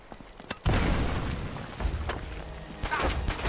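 Booming shots and blasts in the Uncharted Drake's Fortune video game, starting abruptly after a quiet moment and continuing as a loud, rumbling stretch of gunfire with occasional sharper bursts.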